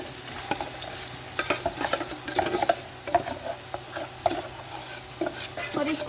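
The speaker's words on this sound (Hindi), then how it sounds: "और इसको हम अच्छे तरीके से भून लेंगे" Chopped onion, tomato and green chili frying in a pan for chicken rice, a steady moderate sizzle punctuated by repeated sharp scrapes and clicks of stirring.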